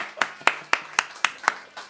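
Six or seven sharp, evenly spaced hand claps ring out at a steady quick rhythm in a church classroom, close and distinct against a quiet background.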